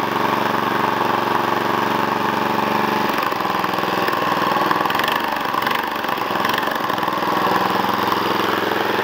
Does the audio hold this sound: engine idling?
yes